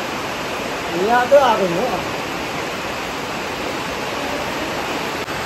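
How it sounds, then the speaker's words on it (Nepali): Water gushes in through a drain into a building despite pipes laid to stop it, a steady broadband rush that runs the whole time while a person speaks briefly near the start. "डल्लै पानी चाहिँ भित्र पसिरहेको छ"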